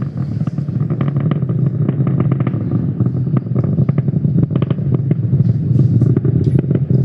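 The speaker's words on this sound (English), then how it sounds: "we've throttled down our engines in preparation for max Q" Rocket engines of the Northrop Grumman NG-20 launch vehicle during ascent, throttled down near max Q: a steady, dense low roar with crackling texture, continuous and loud for the whole stretch with no voices.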